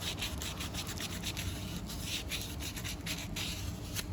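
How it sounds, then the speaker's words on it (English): Fine sandpaper rubs red paint off a part during a 4L60E transmission pump rebuild. The strokes are steady and rhythmic, a close, continuous scratchy rasp with no voices. "use some fine sandpaper here to get rid of that red paint"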